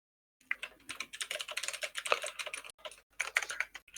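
A player types on a computer keyboard during an online racing-game match, a close, rapid run of clacking keystrokes with one brief pause before the typing resumes.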